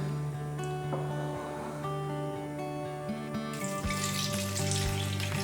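Water being poured from a container into a bowl for whole grain einkorn sourdough dough, a splashing gush that starts partway through and runs steadily to the end over a background of sustained tones.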